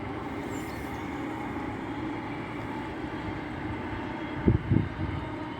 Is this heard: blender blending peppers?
no